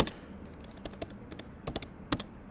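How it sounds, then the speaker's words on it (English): Fingers type on a computer keyboard to enter text into an Alexa simulator: quick, irregular clicks and taps, close and clear, with no talking. "In here you would type in the invoker name."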